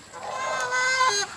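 Pet chickens clucking outdoors beside a muddy, unpaved road after days of rain, a steady close chorus of soft clucks and calls lasting just over a second with no talking.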